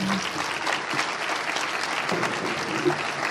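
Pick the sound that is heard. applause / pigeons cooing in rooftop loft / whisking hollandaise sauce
applause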